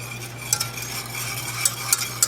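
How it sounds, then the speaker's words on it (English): Steady whisking of a roux of flour, butter and salt for red velvet cake frosting, a low constant hum beneath, with a few brief metallic scrapes of the whisk against the pan. "And we're going to whisk this"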